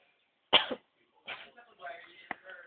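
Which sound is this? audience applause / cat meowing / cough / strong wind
cough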